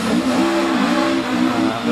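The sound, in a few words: 1977 RS 1800 rally car accelerating away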